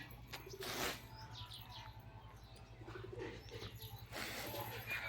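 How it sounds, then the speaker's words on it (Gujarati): Two pigeons take off, with quick bursts of flapping wings near the start and again near the end over soft cooing and faint chirps in a quiet outdoor setting. "આપણા બે કબૂતર ઉડ્યા અટાણે."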